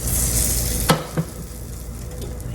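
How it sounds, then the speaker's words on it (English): Oil heats and sizzles in a skillet before steaks go in, a steady close hiss with a couple of soft clinks partway through. "here I have my oil heating up for my actual steaks"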